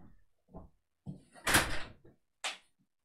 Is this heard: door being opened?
yes